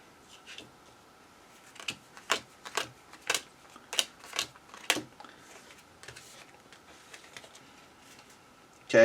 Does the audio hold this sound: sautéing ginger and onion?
no